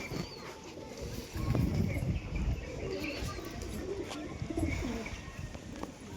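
Pigeons kept at home, including young birds, coo softly in low repeated murmurs with a few chirps and faint wing flaps nearby, while a voice talks intermittently in the background.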